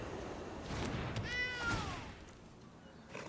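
A single meow plays from a cat card in MTG Arena, a short rising-then-falling cry heard midway over a faint background hum, with no talking around it.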